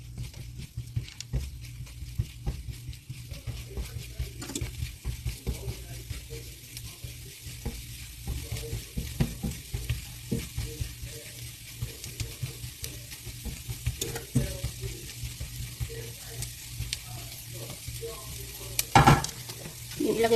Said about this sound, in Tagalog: Gisahin ko ang bawang.